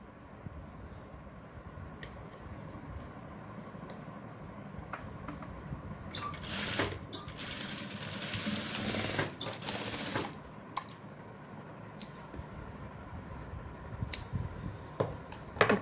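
A sewing machine stitches a boat neck blouse, its fast mechanical chatter running in close, loud bursts with short pauses between runs against a steady background hum.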